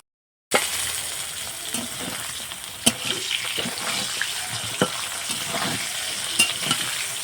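Spiny gourd (kakrol) pieces frying in a pan, a steady close sizzle with occasional sharper pops and stirring scrapes, no voices.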